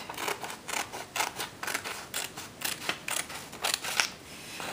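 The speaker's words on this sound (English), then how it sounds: "using your scissors to cut this piece" Scissors snip through origami paper in a steady series of crisp cuts, about a dozen close, quiet snips in regular rhythm.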